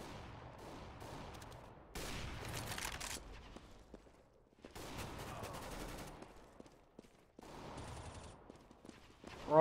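Repeated bursts of gunfire ring out in a video game shootout, sustained fusillades broken by short quiet gaps, loud and close with a rising blast at the very end.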